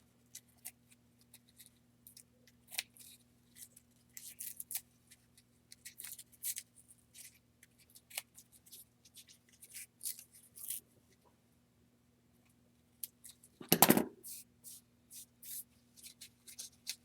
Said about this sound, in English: I'm just going to go ahead and cut off these greens